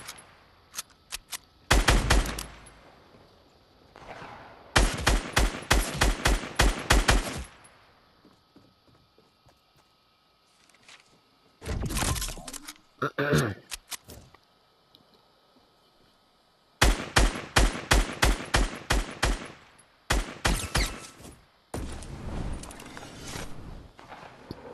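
Rapid gunfire bursts in the video game Fortnite, several loud close volleys of quick repeated shots separated by quieter pauses, with no talking.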